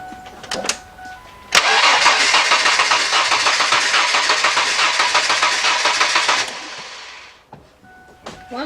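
A 1998 Ford F150 pickup's 4.2 engine cranking steadily with its coils disconnected during a compression test, a loud, even rhythmic churn of about five seconds, bracketed by brief clicks and handling noises before and after.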